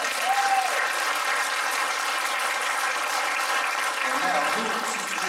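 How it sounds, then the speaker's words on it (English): A church congregation at a Father's Day service breaks into steady, dense applause that holds at an even level throughout, with a couple of faint whistles and no voices on top. "Give her a hand clap."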